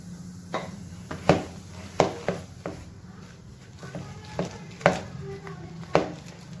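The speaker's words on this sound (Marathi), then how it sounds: "आता आपल्याला लगेच पटापटा हलवून घ्यायचा आहे" Eggless black forest cake batter whisked quickly by hand after soda is added, heard as sharp, evenly spaced clacks of the utensil against the bowl over a quiet background.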